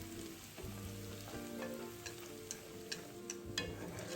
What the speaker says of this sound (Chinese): 油热后再将备好的春卷皮生坯分次适量倒入油炸